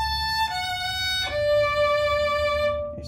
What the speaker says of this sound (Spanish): Empezamos ahora en tercera cuerda al aire, un arpegio de Re mayor